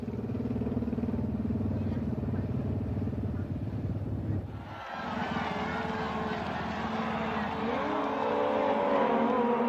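Engines roar steadily throughout, then a louder, higher-pitched racing engine sweeps in and holds, like motorcycle and sidecar combinations speeding past on a track.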